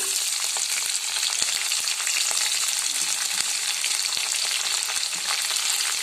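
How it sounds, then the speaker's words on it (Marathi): Green chillies sizzle steadily in hot oil while being sautéed for upma, a loud, continuous frying hiss with small sharp pops and no talking. "आता त्यामध्ये टाकूया हिरवी मिरची"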